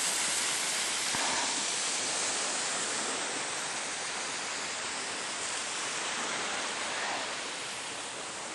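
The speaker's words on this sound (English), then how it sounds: "They're getting water, filling up our water" Steady, broadband rush of flowing stream water being collected into water containers, constant and fairly close, with no voices over it.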